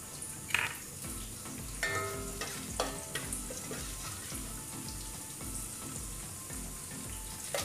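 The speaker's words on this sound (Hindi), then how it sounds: "पैन में मैंने ऑलिव ऑयल डाल दिया है, और ये जब अच्छे से गर्म हो जाएगा तो हम इसमें मस्टर्ड सीड्स, कड़ी पत्ता और सूखी मिर्च, लाल सूखी मिर्च डाल देंगे तड़के के लिए।" Mustard seeds, curry leaves and dried red chillies sizzle and crackle steadily in hot olive oil in a pan for a chutney tempering, with a few sharper pops and clinks early on over a continuous fry.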